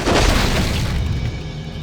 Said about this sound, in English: we can break these gates down just by right-clicking them